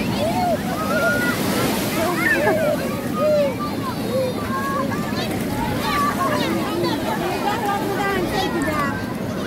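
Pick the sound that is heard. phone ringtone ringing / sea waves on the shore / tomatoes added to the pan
sea waves on the shore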